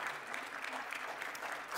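A church congregation claps for a child's third birthday, a short burst of quiet, steady applause from a gathered crowd indoors.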